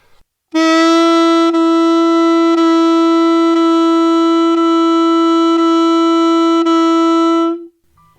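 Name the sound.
saxophone legato tonguing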